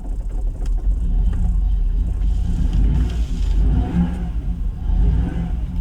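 A Jaguar XKR engine with a rough idle revs up close by, a steady mid-pitched rumble that rises and swells in a few surges over the whole stretch, with no talking.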